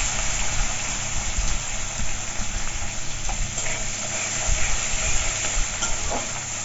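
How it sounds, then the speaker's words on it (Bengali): Chopped onion frying in a pan while cooking Bengali katla fish kalia: a steady, dense sizzle and hiss that runs continuously throughout, close and fairly loud, with no talking. "পেঁয়াজ কুচি দিয়ে দিচ্ছি হালকা করে ভেজে নেব"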